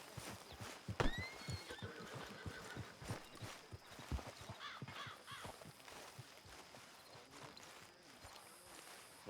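A horse in Red Dead Redemption 2 whinnies loudly, then snorts, with clip-clopping hooves and outdoor ambience around it; a crow caws faintly in the background.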